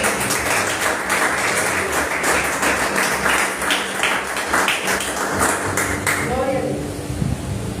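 Church congregation applauding during a sermon, a dense steady wash of claps running throughout at moderate loudness, with voices and crowd noise mixed in and a brief tonal shout near the end.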